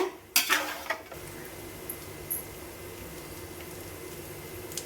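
A spoon scrapes and clinks against a pan as crispy mutton biryani rice is stirred, with a couple of sharp metallic knocks up front, then a soft steady scraping and faint sizzle.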